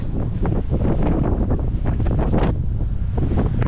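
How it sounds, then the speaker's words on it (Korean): Strong wind roaring across a beach campsite on Jeju Island, a loud, constant buffeting rumble battering the microphone throughout, with gusty surges and no voices heard. "오 바람 미쳤어"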